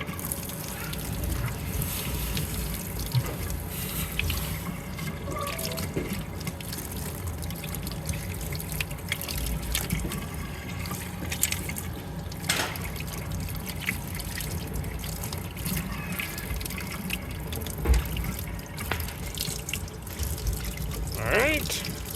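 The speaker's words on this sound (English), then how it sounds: "So I'm going to go ahead and try to run it under a little bit of water and cool things down a little faster" Tap water runs steadily over a hot investment-cast aluminum part for a Wisconsin fuel pump, a continuous splashing and trickling wash lasting the whole stretch with scattered small clinks.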